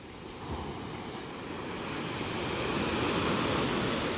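Big sea waves surge and crash at the shore, a steady loud roar of surf with wind that builds toward the end.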